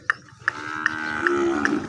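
Cattle on a Punjab village farm lowing nearby, one sustained deep moo rising and holding, with a few sharp knocks over faint background noise.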